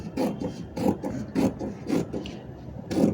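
Several short rasping cuts of scissors trimming excess fabric while sewing palazzo pants, coming in a steady rhythm of about five or six snips, close and fairly clear with no voice over them.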